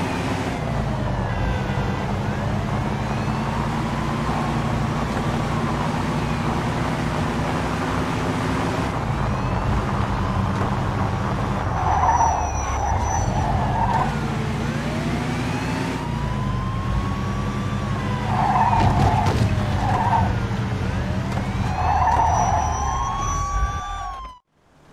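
Police siren wailing over a game soundtrack and steady engine roar during a car pursuit in the Mafia II video game, with rising and falling siren sweeps and loud vehicle noise throughout.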